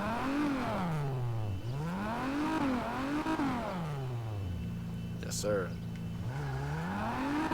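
A modded car engine in GTA 5 single player revs up and down repeatedly through gear shifts, then holds a steady drone, while someone briefly talks over it.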